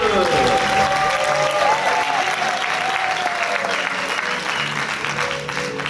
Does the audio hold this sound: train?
no